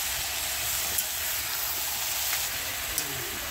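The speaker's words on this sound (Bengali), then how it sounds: "এবার মটনটা ভালো করে নাড়তে হবে, নেড়ে নিতে হবে পেঁয়াজের সাথে।" Mutton and onions fry in a pot over a wood-fired clay stove, giving a constant close sizzle and hiss, with a few faint scrapes as the meat is stirred.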